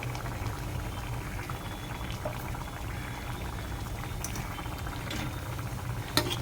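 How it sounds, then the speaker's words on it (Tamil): Ash gourd and chana dal tamarind gravy, seasoned with curry leaves and salt, boils in a pot, giving a steady close bubbling and simmering that carries on with no one speaking. "ஸோ நல்லா கொதிச்சிடுச்சு."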